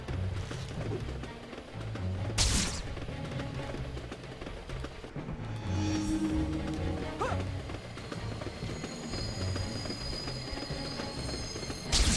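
A train rumbles steadily along with rattling wheels and occasional squeals in a Spider-Man video game, loud and continuous, with bursts of game noise over it.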